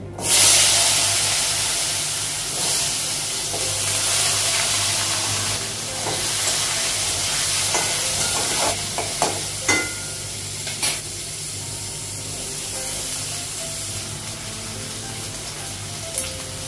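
Potatoes and onions with green chili, cardamom and cinnamon hiss and sizzle steadily in hot oil in a pan, with occasional stirring scrapes and clinks, heard up close.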